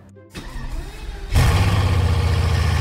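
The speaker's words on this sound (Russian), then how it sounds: "Выхлоп новый? Дай проверю. Заводи движок." A car with a new exhaust system starts up and its engine revs, a rising roar that settles into a loud, deep, steady drone, close by.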